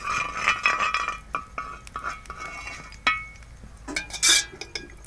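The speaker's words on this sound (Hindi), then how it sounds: "घी को हमने अच्छे से ऐसे फैला देना है।" A spoon spreads ghee across a hot tava griddle, giving soft scraping strokes and light metallic clinks, with a brighter scrape near the end, fairly quiet.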